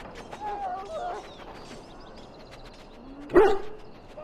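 A dog in a video game gives a single sharp bark near the end, preceded by a few soft whines and yips over a faint game background.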